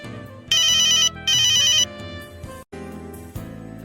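A mobile phone ringtone rings out in two loud bright electronic bursts, then the tune continues more quietly with a few further tones.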